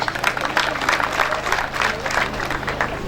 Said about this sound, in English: I think that hand clap is not enough. I need a special hand clap.